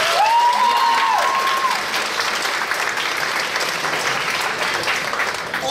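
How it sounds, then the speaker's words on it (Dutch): An audience applauds contestants at the Miss Limburg semi-final, a loud, dense, steady wash of clapping from a large crowd that holds for several seconds, with a brief whistle or cheer near the start. "Mag ik daar even een applaus voor hebben?"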